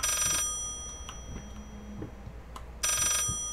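An old-fashioned telephone bell rings inside the Layers of Fear horror video game: two loud bursts of harsh metallic ringing at the start and end, separated by a quiet stretch of faint knocks and a low hum.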